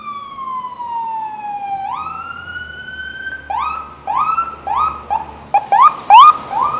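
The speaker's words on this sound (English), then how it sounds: "I wonder if this fire truck is going to the same place where the ambulance is." A fire truck siren wails along a Toronto street, a long descending tone giving way to repeated rising whoops that grow louder and sharper at the end, with no talk over it.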